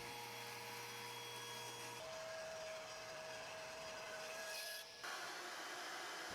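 A table saw cuts wood for an end grain cutting board, making several passes with the blade raised between cuts; a steady whining saw drone holds alone at moderate level, shifting in pitch as the blade works through the board.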